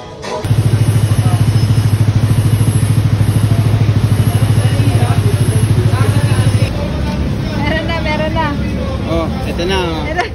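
A motorcycle's engine idles close by in a steady, even throb, then stops partway through, and people talk over the remaining stretch.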